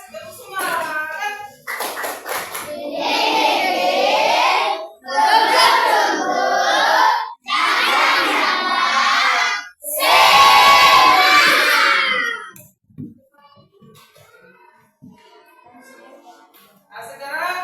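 A class of children in an Indonesian Islamic studies lesson performs the tepuk semangat clapping chant, with rhythmic claps opening into four loud bursts of chanting voices, then falling to quiet murmurs.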